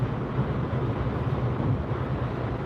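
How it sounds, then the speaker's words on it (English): Steady wind roar buffets a car windscreen while driving on the M60 motorway on a windy day, a constant, fairly loud low rumble with road noise and no talking. "there's a lot of wind noise on the windscreen"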